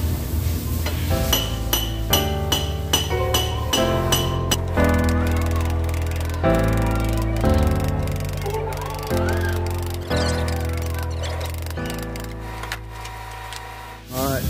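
A hammer strikes the metal fuel tank sending unit of a 2001 Ford F-250 diesel, giving about a dozen sharp, ringing metallic blows at an irregular pace, close and loud, with each clang decaying between hits.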